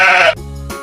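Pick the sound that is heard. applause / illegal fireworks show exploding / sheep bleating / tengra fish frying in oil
sheep bleating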